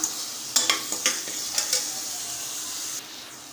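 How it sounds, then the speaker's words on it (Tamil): Spice powders sautéed in a pan, a steady soft sizzle broken by a few sharp scraping stirs early on, close and alone, then dropping quieter near the end. "பொடிகள்லாம் போட்டனால ஒரு ஒரு நிமிஷம் சேர்த்து வதக்கிக்கலாம்"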